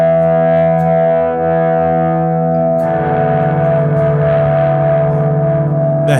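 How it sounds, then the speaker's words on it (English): A 12-string electric guitar rings out with sustained chords through a distortion effect, shifting partway from a cleaner resonant tone to a denser, gritty crunch, loud and alone with no voices. "Let's try it with some distortion."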